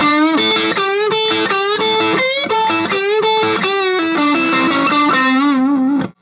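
A distorted electric guitar plays a bluesy riff of bent and wavering notes with heavy vibrato, loud and close, ending abruptly.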